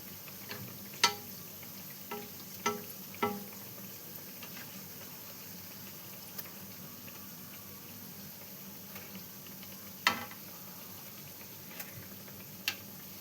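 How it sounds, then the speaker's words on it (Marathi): Doughnuts deep-fry in oil with a soft, steady bubbling hiss, broken by a few sharp isolated ticks and taps spread across the stretch. "असे हे डोनट तळून घेऊया."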